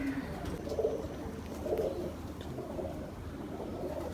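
Soft, low cooing of a Dubai pigeon repeats a few times against a steady background hum, faint and somewhat distant.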